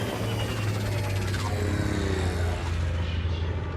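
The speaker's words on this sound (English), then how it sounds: "This ship has some interesting engine noises." A spaceship engine in the game Elite: Dangerous gives a loud, continuous low hum with a broad whooshing wash over it, steady for a few seconds and slowly thinning toward the end, with no voices.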